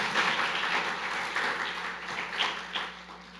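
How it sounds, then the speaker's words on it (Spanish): A church congregation applauds together, a steady broad wash of many hands clapping at moderate volume with no voices over it. "Dele un aplauso al Señor por esto."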